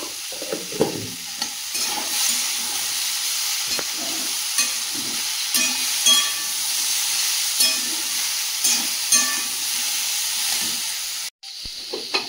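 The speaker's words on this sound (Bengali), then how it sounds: "সবজিগুলো ভালো করে কষিয়ে নিয়েছি" Vegetables for a sweet-seasoned pumpkin curry sautéed and stirred in a pan, giving a steady loud sizzle and hiss with repeated scraping stirs and light clinks, briefly cutting out near the end.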